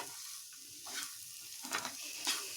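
Grated coconut roasts in a pan, a faint soft sizzle with a few light scraping stirs of a spatula.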